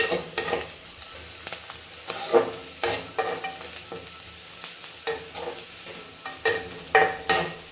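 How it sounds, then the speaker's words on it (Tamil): Onions frying in a pan and being stirred, a steady close sizzle broken by repeated scraping strokes of the spoon at an uneven rhythm, with no voices. "நல்லா ஃப்ரை பண்ணிக்கலாம். கொஞ்சம் வெங்காயம் வந்து கொஞ்சம் ப்ரௌன் கலரும் ஆகக்கூடாது"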